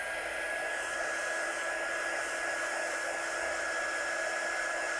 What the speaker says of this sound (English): I'm just going to use my heat gun and just blast it off a little bit.